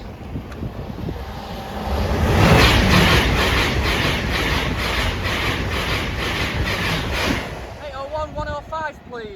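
A train rolls past Cromwell Lane level crossing, a steady broadband rumble that swells after two seconds and holds for several seconds with rhythmic wheel-beat pulses, wind buffeting the microphone, then a warning tone sounds as it passes.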